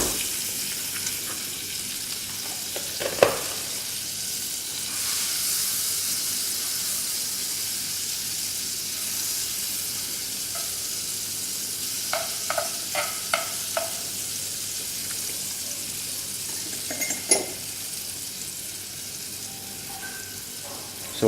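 Butter melting in a pan for a crepe suzette sauce, a soft continuous sizzle and hiss running throughout, with occasional sharp clicks and taps of utensils against the pan.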